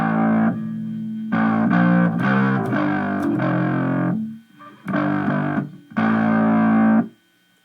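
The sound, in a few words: bass guitar playing a bass line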